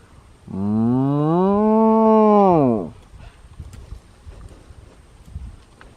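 A single cow on a Florida farm lets out one long, loud moo lasting a couple of seconds, close to the microphone, followed by quiet wind and field background.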